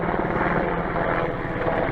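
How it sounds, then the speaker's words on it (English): An Army medevac helicopter passes overhead near a nature study area and an airport outside Reno, Nevada, its loud, steady rotor and engine roar filling the whole stretch with no talk. "It's a medevac Army helicopter coming to look at us."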